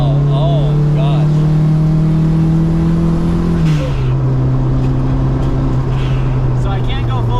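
A car engine roars at full throttle in a loud, steady drone, its pitch dropping once partway through as if shifting, then holding steady again, with a voice faintly present underneath.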